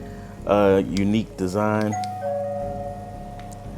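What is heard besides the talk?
smart lock doorbell chime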